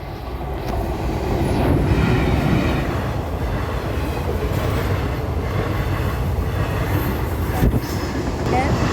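A train rumbles loudly and continuously nearby, with a steady low roar and faint rhythmic rattling of the cars throughout.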